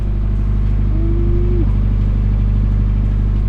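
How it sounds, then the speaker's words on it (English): A 2JZ engine swapped into a Chevy OBS single cab truck runs after a cold start, a loud, steady low exhaust drone with a brief tonal whine rising over it partway through. "Go ahead and get one last cold start before she is gone, man."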